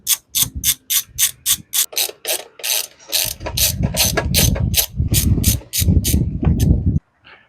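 A ratchet wrench loosening 7/32 bolts under the steering column of a Crown Victoria, Grand Marquis or Town Car, with rapid, loud, close clicking in quick bursts, then a steadier grinding run of clicks before stopping.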